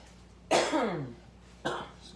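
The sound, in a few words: cough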